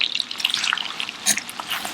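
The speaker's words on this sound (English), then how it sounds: "Just gonna saute this for a couple of minutes." Shallots and parsley sizzle in melted butter in a pan, a soft, steady crackle and hiss with scattered pops heard up close.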